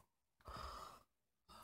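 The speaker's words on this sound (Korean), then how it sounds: "하품하네" A small young cat yawns once, a soft breathy exhale that swells and fades over about half a second, followed by a second faint breath, in a quiet indoor room.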